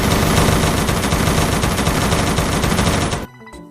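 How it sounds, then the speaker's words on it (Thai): Rapid automatic gunfire from a Gun3D addon gun in a video game, a loud continuous rattle of dense shots lasting about three seconds before cutting off abruptly into near silence. "ปืนนี้แบบลั่นรัวมาก"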